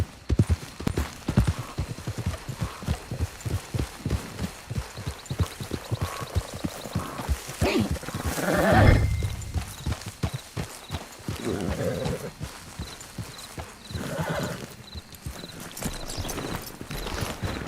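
Horse hooves clip-clopping at a gallop in the Red Dead Online video game, a fast, steady rhythm of sharp hoofbeats that slows and fades toward the middle, with a brief whinny-like swell and hoofbeats resuming after.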